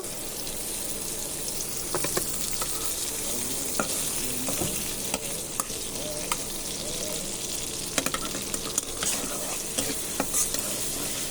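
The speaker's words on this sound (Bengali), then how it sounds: "ভালোভাবে নেড়ে নিই এটা" Onions and green chillies frying in oil in a pan for pasta, stirred with steady scraping and clinking of a spoon over a constant soft sizzle, no one speaking.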